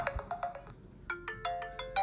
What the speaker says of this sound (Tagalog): May ringtone.